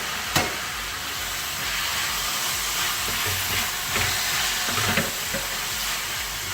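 Chopped tomatoes hitting hot masala for a Kuttanadan duck curry, giving a steady broadband sizzle with a few scraping stir strokes and clinks over about six seconds, loud and close with no talk.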